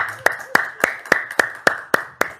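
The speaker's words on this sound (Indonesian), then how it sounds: "Tepuk tangan dong, luar biasa." Hands clap alone in a slow, even rhythm, eight or nine sharp, close claps evenly spaced about a third of a second apart, with a faint hum between them.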